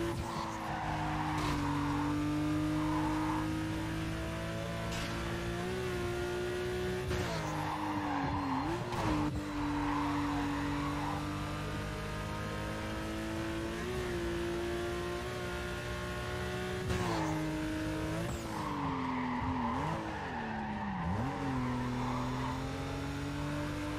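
Porsche 911 GT2 racing in the video game Need for Speed Carbon, a continuous loud engine drone with revs rising and falling through gear shifts and brief tire skids, steady and close throughout.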